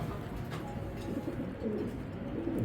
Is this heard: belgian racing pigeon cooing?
yes